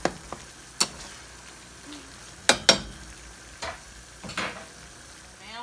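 Hamburger meat breaking up and browning in a pan for homemade baked spaghetti, a quiet sizzle punctuated by several sharp scrapes and clicks of a utensil against the pan, spaced irregularly and fairly close.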